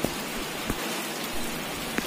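Heavy rain pours steadily in Tonk, a dense, continuous hiss of drops on surfaces with a few sharper drips standing out, fairly close and with no voices.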